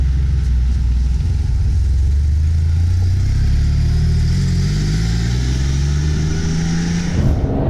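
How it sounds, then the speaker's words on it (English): A Porsche 959 supercar pulls away, its engine note climbing steadily from a low rumble as it accelerates. The engine is close and loud throughout, with no talking. "we are officially taking off in the 959"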